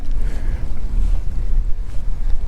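Strong, cold wind buffeting the microphone at a fishing spillway in Delaware, a loud, low, rumbling roar that gusts unevenly and fills the whole clip, no talk.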